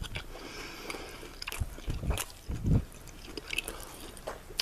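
Someone bites into and chews an all-beef Wilensky bologna and salami sandwich close to the mic, giving a few soft, moist crunches and squishes over quiet room noise.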